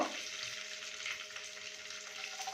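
Chopped ginger and chili sizzle in hot oil for upma, a steady close frying hiss running unbroken for the whole moment with a faint hum beneath.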